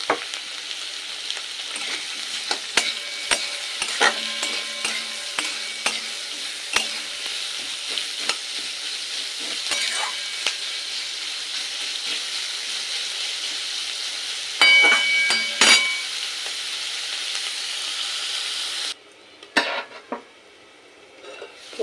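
Salted onions sizzle and fry in a pan for a Bengali onion and poppy-seed dish, with a steady close hiss broken by repeated clinks and scrapes of a stirring spoon, a louder stir near the end, and no voices.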